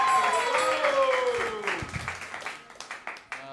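Audience at the New York Comedy Club applauding a roast battle comic as he is introduced: scattered clapping and crowd noise that builds after a host's voice fades, growing more distinct toward the end.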